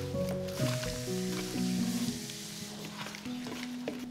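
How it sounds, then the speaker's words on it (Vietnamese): Wet squishing and squelching sounds as chicken wings are massaged with seasoning by hand, soft and close, with a faint tonal background hum. "Massage cho gà thấm gia vị nha."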